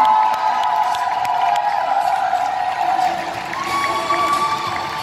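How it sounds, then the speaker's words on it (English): Holiday camp crowd at a Butlins Minehead farewell show, cheering and whooping loudly and continuously, with some shouting from children and a sustained tone running underneath. "Give him a cheer, give him a cheer."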